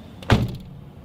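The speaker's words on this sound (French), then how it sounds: "Ferme la porte, au moins." A door closes with a single short, close thud, followed by a brief rattle and then quiet.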